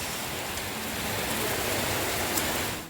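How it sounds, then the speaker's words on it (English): Heavy rain pours down steadily outdoors, a dense, continuous hiss of drops that holds at an even level throughout with no voices. "You can see here it's raining heavily, guys."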